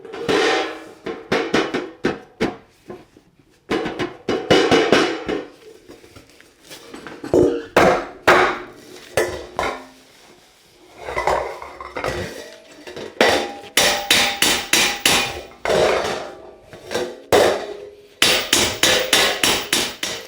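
A handmade metal cymbal is shaped with a hammer, giving loud, close, metallic blows in rapid bursts of many strikes, separated by brief pauses, with a clanging ring after each hit.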